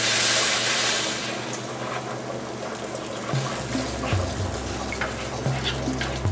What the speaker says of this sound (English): now we're going to start to pour our water in